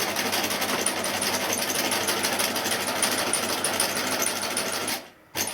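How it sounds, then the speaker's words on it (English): A sewing machine stitches down the centre of fabric, catching a ribbon for a honeycomb Christmas bauble, a rapid steady mechanical chatter close by that runs without pause and stops abruptly near the end. "And we're just going to stitch down the centre, catching the ribbon."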